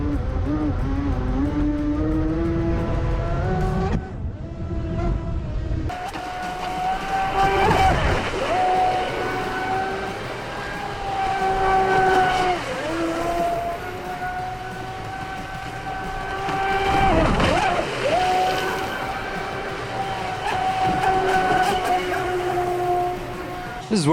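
A high-revving 8S electric motor on a large-scale ProBoat Super Sonicwake 48 RC speedboat whines loudly and continuously on water, rising and falling in pitch as it speeds past, with a brief dropout near the start.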